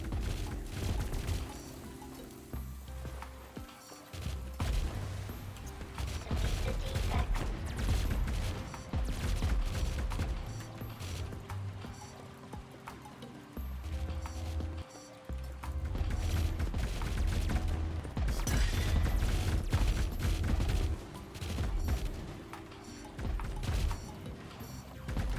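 Gatling turrets in the real-time strategy game Rogue Command fire continuously amid layered game effects, a dense mechanical clatter with ongoing booms and rattling that holds steady and swells slightly in the second half.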